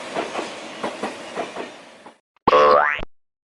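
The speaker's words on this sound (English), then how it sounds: "This is a high-speed train, a smart mobility solution connecting regions with high safety and precision." A high-speed train passes with a regular clickety-clack of wheels over rail joints for about two seconds, then a short bright rising boing-like tone follows after a brief silence.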